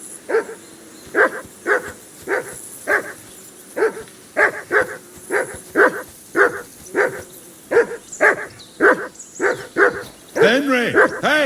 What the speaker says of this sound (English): Dog's barking a lot.